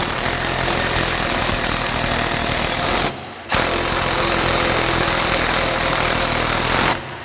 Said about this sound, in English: first I'm gonna tighten these bottom ones because I know those are good.